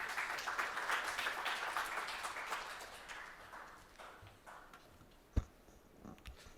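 Audience applause at a public fund report event welcoming a speaker to the podium, a dense patter of clapping that fades out, followed by a sharp knock and a few faint bumps.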